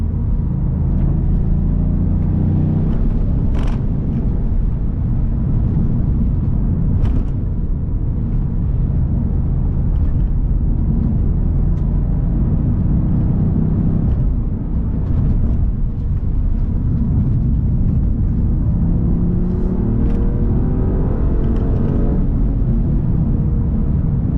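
A Toyota Yaris GR hatchback drives along at a steady pace, its engine and road noise forming a continuous loud rumble with faint whirring, and no one speaks.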